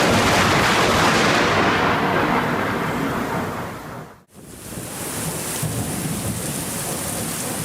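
Loud, steady roar of heavy rain during a lightning storm in Japan, with rumbling thunder underneath. The sound cuts out sharply for a moment partway through, then the downpour resumes.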